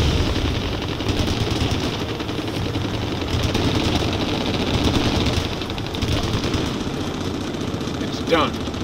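Rapid machine gun fire from a military shooter video game rattles on continuously and loudly, mixed with dense battle noise, while voices are heard over the gunfire.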